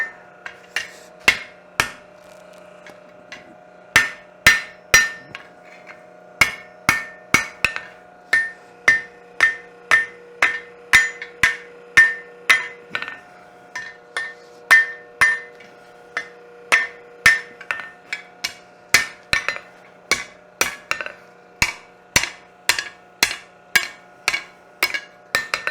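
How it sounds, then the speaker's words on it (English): A blacksmith works metal at a demonstration with steady, loud hammer blows, often paired in quick double taps, ringing sharply over a constant low hum for nearly half a minute, with no talk. "So, double tapping that hammer."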